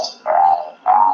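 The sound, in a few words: frog vocalizing to attract a female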